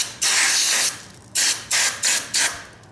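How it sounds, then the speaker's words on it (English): Close, hissing aerosol carburetor cleaner spray on Mikuni carbs from a Yamaha Banshee, in one long burst followed by four short, quick bursts, loud and with no voices. "Okay, so I'm gonna come with the carb cleaner"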